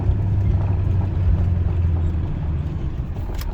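A first-generation Ford 7.3 Power Stroke diesel truck with a manual transmission drives along, giving a steady, loud, low engine rumble throughout with no talking.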